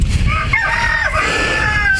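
Chickens in a barn-style coop, clucking and squawking with a rooster crowing, a dense close chorus of overlapping calls throughout the short stretch.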